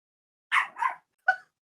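A dog gives three short barks close by, two in quick succession and a third after a brief pause, with silence around them.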